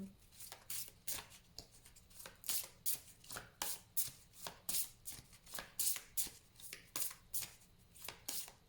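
A tarot card deck being shuffled by hand, a rapid series of crisp riffling bursts repeating steadily and close up, with no talk over it.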